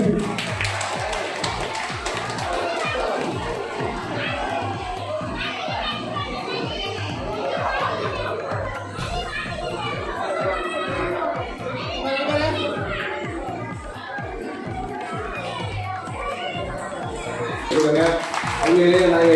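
An audience claps in honour of a catering service at a community charity event, steady applause mixed with crowd chatter and children's voices, sustained and fairly loud throughout with a swell near the end.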